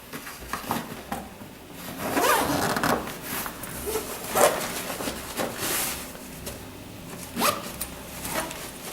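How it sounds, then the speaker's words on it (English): A zipper closes the inner cloth flap of a chair pad set, with several close, rasping zip pulls and fabric handling in short bursts over a quiet background. "And then we need to zip that inner cloth flap."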